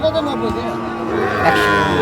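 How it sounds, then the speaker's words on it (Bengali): A Sahiwal bull moos in a drawn-out, wavering low call at a crowded cattle market in Chattogram, with the steady hubbub of the market and people talking around it. "চলো না একটু দেখি গরুগুলো"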